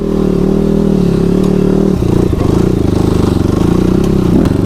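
A motorcycle engine drones loudly and steadily up close, with clattering and scraping as the bike struggles and slides through mud on a snowy hill road.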